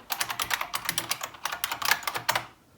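Fast clattering keystrokes on a computer keyboard, close and fairly loud, run in quick irregular bursts with a brief pause midway and stop just before the end.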